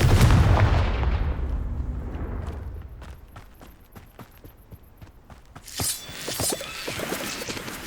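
Confringo blasting spell cast in the Hogwarts Legacy video game: a loud low boom that decays over a few seconds, then a run of sharp crackling pops and a second burst of bright, fiery crackle near the end, with no talk.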